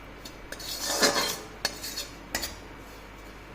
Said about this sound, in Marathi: असं अशा प्रकारे हे खोबरं असं भाजून घ्यायचं